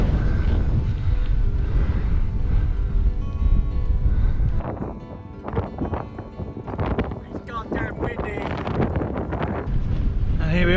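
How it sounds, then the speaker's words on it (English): Fierce headwind roaring across the microphone on a steep 12–13% climb while bikepacking King Alfred's Way, a loud, continuous rushing buffet that dips briefly midway and then gusts on. "Oh, fierce headwind"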